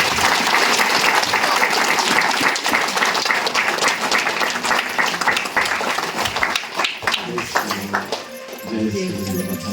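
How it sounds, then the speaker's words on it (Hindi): Loud, sustained clapping from a crowd at a 30th wedding anniversary jubilee celebration in a village in Chhattisgarh, continuous for several seconds before thinning out near the end, with voices audible beneath it. "चलो जोर से ताली बजा दो।"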